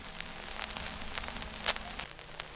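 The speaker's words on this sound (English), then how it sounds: "use a crackle effect as is like that" A vinyl crackle effect from the Xscend VST plugin plays on its own: faint, steady surface hiss dotted with irregular pops and clicks.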